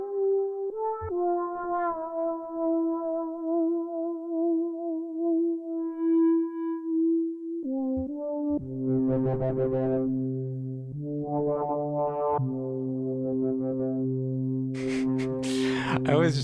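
A strange synthesizer patch played in the Pigments software synth, with sustained tonal notes that glide and shift, later turning into buzzy, rasping layered chords, heard alone and fairly clear.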